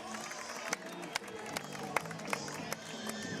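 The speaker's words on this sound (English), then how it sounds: "Listen to this crowd, man." A crowd at a high school football game roars in a steady distant wash, with scattered sharp claps and shouts rising now and then, faint overall.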